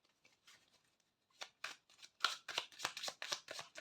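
Three tarot cards drawn and laid out during a reading, giving a run of soft papery rustles, slides and snaps that grow denser and louder toward the end, with no talking.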